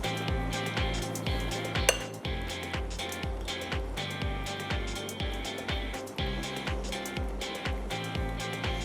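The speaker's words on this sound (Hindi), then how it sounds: "कांटा ले लेंगे एक और इसको आप अच्छी तरह इसके अंदर प्रिक करिए ताकि हर जगह इसमें मसाला लगे" A fork repeatedly pricks marinated chicken coated in masala, making a steady rhythm of soft metallic taps and clinks against the dish, with no talk.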